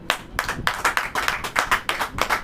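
Congregation clapping during a Hindi church sermon, a strong rhythmic beat of unison hand claps about three per second, loud and close, with no talk over it.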